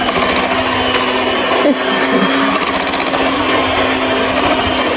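An electric mixer beating lemon cake batter during a first attempt at baking gives a loud, steady whirring drone that runs unbroken the whole time, with only a brief dip partway through.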